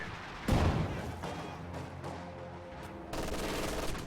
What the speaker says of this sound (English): Barrage firing.